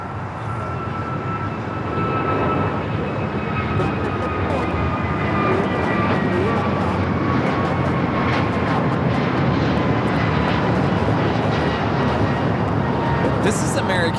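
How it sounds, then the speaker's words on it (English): An American Airlines A321neo takes off at LAX, a steady broad jet roar building after the first two seconds and holding loud and continuous, with a faint rising engine whine and a voice talking over it. "This is American Airlines 2023 taking off to Charlotte on the A321neo."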